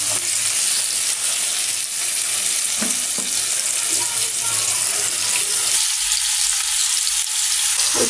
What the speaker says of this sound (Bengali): ওই চুলায় মাছ ভাজতে দিলাম